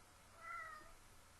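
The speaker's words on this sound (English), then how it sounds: "my cat wants to go out" A cat meows once, wanting to be let out, a faint, drawn-out call rising out of a quiet room hiss and fading after about a third of a second.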